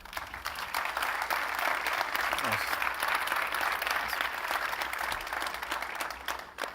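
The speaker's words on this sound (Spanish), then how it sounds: "en pie, primera ovación para ellos, por favor" Conference audience at a football industry summit giving a standing ovation, a steady full wash of applause from a large crowd holding throughout, with a faint voice briefly underneath.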